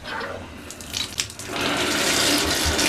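Water gushes into a bathtub, starting with splashy uneven pouring and then settling into a loud, steady rushing fill, close by with no voices.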